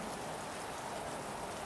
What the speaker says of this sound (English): it's pouring down rain again